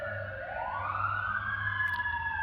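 A fire truck siren on Santa Monica Boulevard in Beverly Hills sweeps up and holds a high wail, heard from some distance over a low engine hum, alone without speech.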